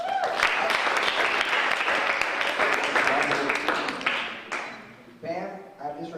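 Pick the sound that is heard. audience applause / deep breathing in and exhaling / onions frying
audience applause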